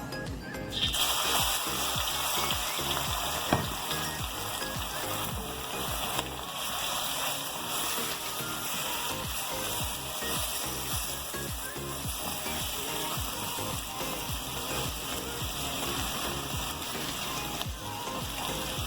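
Shrimp fry in a pan for a shrimp biryani, giving off a steady, dense sizzle with occasional stirring clatter, close and continuous throughout without talk.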